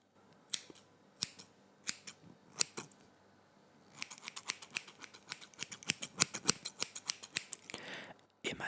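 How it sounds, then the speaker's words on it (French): Scissors snip close around a microphone in ASMR style: sharp crisp cuts, a few spaced single snips first, then a faster run of rapid snipping, intimate and quiet with no speech. "ça me fait assez bizarre de faire comme ça avec un ciseau autour d'un micro"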